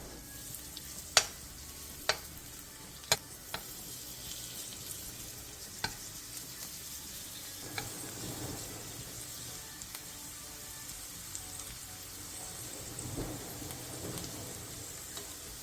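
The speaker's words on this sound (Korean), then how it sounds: "팬에 기름을 두른 뒤 반죽을 먹기 좋은 크기로 올려 중약불에서 부쳐주세요" Spoonfuls of pancake batter frying in oil over medium-low heat, giving a soft, steady crackling hiss like light rain, broken early on by a few sharp clicks and taps.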